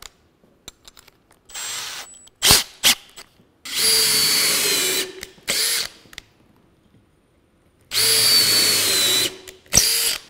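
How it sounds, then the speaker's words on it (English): Power drill countersinking two holes in a small wooden piece, several short bursts of whirring cutting separated by silences, with quick trigger blips and two longer bites into the wood. "Countersink two holes on this little piece, which is the exact same thing as these big pieces"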